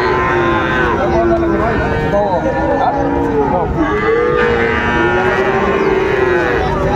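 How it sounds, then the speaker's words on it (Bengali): Sahiwal bull calves at a busy cattle market in Dinajpur give long, loud, drawn-out moos one after another over a constant crowd din, with people talking in the background. "সাইওয়াল বাচ্চা আমরা দেখছিলাম"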